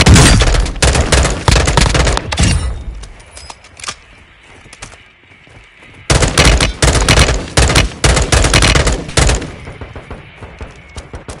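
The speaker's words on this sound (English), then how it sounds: "Taking effective fire!" Video game shooter gunfire: rapid automatic bursts and a fusillade of shots crack out loudly, then drop into a quieter lull around the middle before heavy firing resumes in close, repeated bursts.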